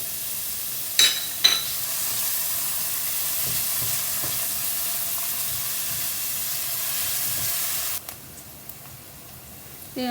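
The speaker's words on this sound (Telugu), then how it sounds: "ఆనియన్ కొంచెం ఫ్రై అవుతూ ఉంది" Half an onion fries in a pan with a steady, close hiss of sizzling oil and a few sharp stirring scrapes near the start and again near the end.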